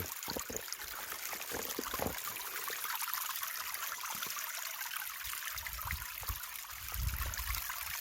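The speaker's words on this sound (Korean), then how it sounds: "일급수 물이 흐르네요." Clear first-grade mountain stream flowing through a valley, a continuous close trickling and babbling rush with occasional low gurgles, steady throughout with no voices.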